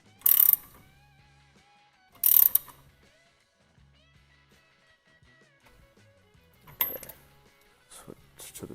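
Ratchet snugging up the steering wheel center nut on a 1979 Ford Bronco during a GT steering wheel upgrade, heard as two short, loud bursts of clicking, then quieter mechanical ticks and two more bursts near the end.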